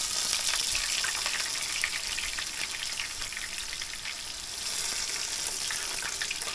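Fresh northern pike fillets frying in a pan, a loud, steady sizzle and crackle of hot oil that fills the whole stretch without pause and with no voices.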